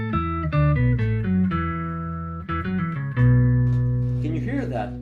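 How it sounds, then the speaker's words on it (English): A single electric guitar note played through an octave pedal, stacking several octaves below plus one above, rings out as a sustained, layered chord-like tone that swells after a brief re-strike and holds steadily to the end. "So I'm playing in only one note, but I'm playing in many octaves at the moment."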